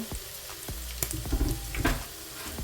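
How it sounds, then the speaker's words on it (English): Saltfish frying in oil in a pot while being stirred, a soft steady sizzle broken by utensil scrapes and light clinks, fairly quiet and close. "Alright, I'm stirring the other side. I'm just moving it around so it doesn't stick and it doesn't burn."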